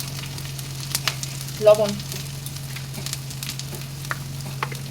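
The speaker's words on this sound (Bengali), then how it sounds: "এবার ভালো করে এটাকে ভেজে নেব।" Onions with soaked, ground red chilli paste, green chillies and turmeric frying in a pan give a soft, steady sizzle under a low hum, with a single brief spoken word in the middle.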